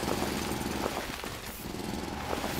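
A mechanical arm-mounted digging drill in Foundry grinds and rattles continuously, loud and close, with a steady pulsing churn and no talk over it.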